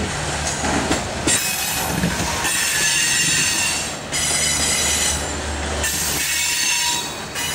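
CSX manifest freight led by a lash-up of BNSF locomotives rolls past at Mount Holly, a loud steady roar of cars with wheel squeal and rhythmic clatter over joints, continuous and close throughout.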